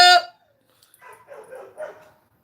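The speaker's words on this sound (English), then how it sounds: "I have one dog in the front yard." A dog in a front yard gives one loud, sharp bark up close, followed after a short pause by several softer, lower whines and grumbling vocalizations.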